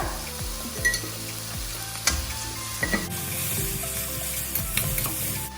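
Onion and tomato sauté in oil in a pan over a high flame, a steady crackling sizzle with repeated scraping and stirring strokes of a spatula and occasional clinks against the pan.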